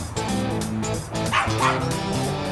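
A Mountain Feist hunting dog barks repeatedly and yips up at a fox squirrel treed in the woods, a close, steady run of barks with a few whining yelps.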